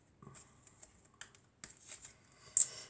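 Tarot cards being cut and shuffled, a quiet run of soft papery riffles and taps that ends in a sharper, louder flurry of card snaps.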